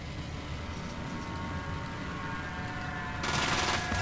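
Burst-fire gunshots in the video game Fallout 1, set in Necropolis, make a dense crackling rattle over a steady noise bed, growing harsher and louder near the end.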